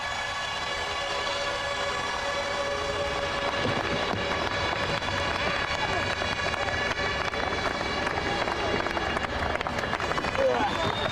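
Large crowd at a 2003 Champ Car race in Germany cheering and roaring across a broad, sustained wash of noise, with siren-like horns and whistles rising through it, steady and loud throughout.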